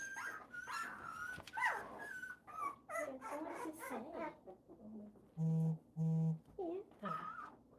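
Two-week-old puppies whimper, yip and squeal in a busy close-up chorus, with a couple of sustained whines standing out near the end and soft human talk mixed underneath.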